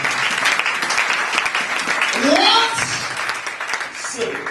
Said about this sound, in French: Oh, let's clap for the Lord for this.